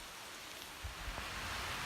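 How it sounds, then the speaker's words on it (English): Steady soft rain falling on a forest canopy along a wooded trail in July, a diffuse even hiss with faint scattered drops, fairly distant and quiet with no voices. "Sounds like it's raining again."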